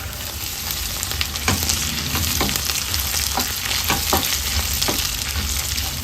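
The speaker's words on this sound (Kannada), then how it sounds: "ಒಂದು 15 ಗೋಡಂಬಿಯನ್ನು ಸೇರಿಸ್ಕೊಂಡು ಫ್ರೈ ಮಾಡ್ಕೊಳ್ಳೋಣ." Green chilies, garlic, cinnamon, cloves, cardamom, peppercorns and cashews fry in a pan for egg curry masala, giving a steady close sizzle broken by repeated scraping stirs and no talk.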